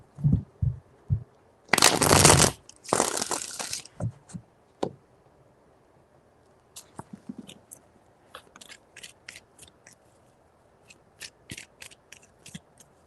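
Tarot cards are shuffled in a few quick riffling bursts, loud and close, followed by scattered soft taps and clicks as the deck settles, with no talking.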